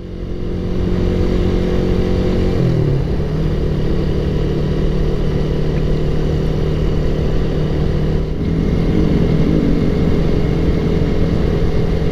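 A vehicle drives along a multi-lane night road, Jalan Jenderal Ahmad Yani in Batam, its engine droning loudly and steadily with shifts in pitch around two gear changes, no voices over it.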